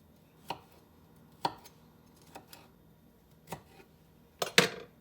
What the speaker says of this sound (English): Cut the stems off of these.